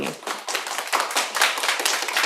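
Audience members at a school district board meeting clap steadily for about two seconds, a moderately loud patter of many hands in a room with no talking.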